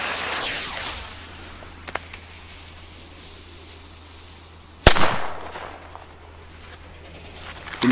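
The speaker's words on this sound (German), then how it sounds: "Und ja, zünden wir auch mal ein paar." Firecrackers about the size of a D-Böller explode outdoors, with a hissing fuse at the start and one sharp, loud bang midway that rings out with echo.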